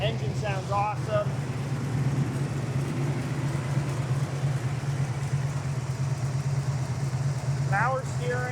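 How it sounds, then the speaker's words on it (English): A 1970 Chevy Camaro's small block 350 V8 with dual exhaust idles with a steady, low rumble throughout, with a faint voice briefly heard at the start and end. "Engine sounds awesome."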